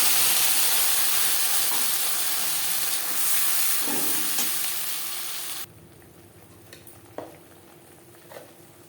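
Tomato and green chili paste frying in hot oil after cumin, a loud, dense sizzle and hiss that drops abruptly to a quieter simmer with a few faint clinks of stirring.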